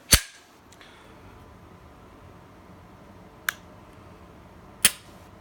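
An HK VP9 pistol trigger gives three sharp isolated clicks, close and crisp, as it is reset and dry-fired over a quiet background.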